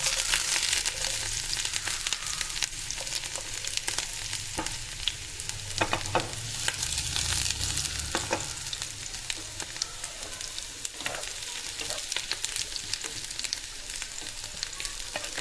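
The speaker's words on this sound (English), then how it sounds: "Our oil is hot, so let's put the ginger garlic first." Ginger and garlic frying in hot oil in a pan, a steady close sizzle and crackle that runs the whole time, with occasional stirring scrapes and no talking.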